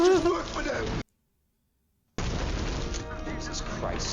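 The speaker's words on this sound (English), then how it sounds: "Why am I hearing gunfire?" Rapid gunfire from the 1998 action film Blade bursts out dense and loud alongside a viewer's voice, cutting off into a second of silence before the dense, noisy action resumes.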